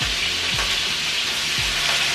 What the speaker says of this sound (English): Popping all over the place. I am frying it.